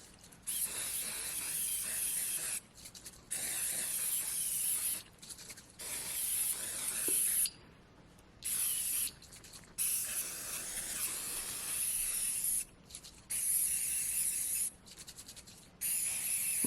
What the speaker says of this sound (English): This is like almost all gone, so it's not spraying evenly.